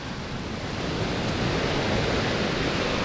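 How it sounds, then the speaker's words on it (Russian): Stormy sea surf breaking on the beach at Alushta, a steady dense roar of waves and spray filling the scene, loud and continuous with some wind, no voices. "Ой, хорошая волна идет, смотрите, какая ровненькая."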